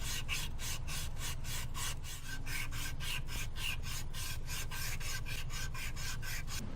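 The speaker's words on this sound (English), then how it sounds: "starts sanding the back side of the louver" Rapid, rhythmic rasping of a small flexible detail sander rubbing back and forth on a wood louver, steady and close throughout.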